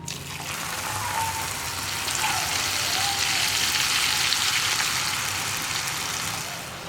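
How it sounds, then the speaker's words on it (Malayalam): Boiled milk pours into melted butter in a pan while making broken-wheat milk payasam, a continuous close sizzling hiss with a watery trickle that swells in the middle and eases slightly at the end. "ഈ സമയത്ത് നമ്മുടെ തിളപ്പിച്ച് വെച്ചിരിക്കുന്ന പാല് ചേർത്ത് കൊടുക്കുക"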